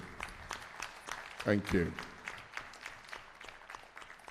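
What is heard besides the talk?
audience applause for a speaker at a conference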